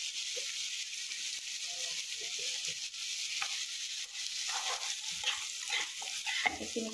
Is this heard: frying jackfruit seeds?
yes